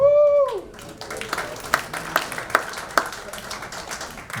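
Audience clapping at a university athletics hall of fame ceremony in a large room, a fairly thin scattering of claps with a few sharper individual ones, following a brief tonal sound at the start.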